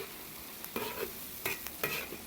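Chili bean paste and a chunk of hotpot base stir-fried in hot oil with scallion, ginger, garlic and pickled chilies: soft sizzling with several distinct scraping stirs of the spatula, close and fairly quiet, no speech.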